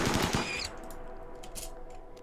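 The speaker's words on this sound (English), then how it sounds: "And we'll shoot the hare." Rapid gunfire in the Rimworld video game as a colonist shoots a hare on sea ice, a short rattling burst of shots up front that quickly drops away to a low ambient hum.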